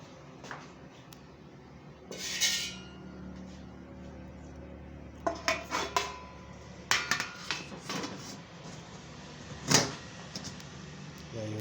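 A pot lid knocked and set onto a pot of frying sweet potatoes, giving faint clanks and metallic taps scattered over quiet kitchen background.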